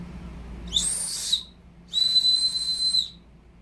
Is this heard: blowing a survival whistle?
yes